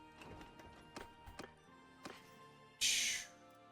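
Horse hooves clip-clop in a few separate taps in Mount and Blade 2: Bannerlord near a horse village, followed by a brief bright burst of noise, with background game ambience.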